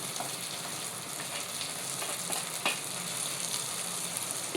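Cluster beans frying with salt in a pan while being stirred, giving a steady broadband sizzle with faint scraping from the stirring and no talk.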